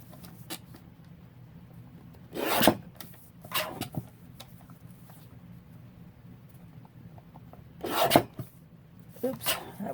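A paper cutting machine trims journal paper for a Halloween journal, making two strong raspy slicing strokes and a few lighter scraping passes against a quiet room hum.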